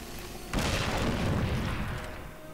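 A sudden booming explosion in Darksiders II bursts in loud and close, then rumbles and crackles as it slowly fades over a couple of seconds, with no talk.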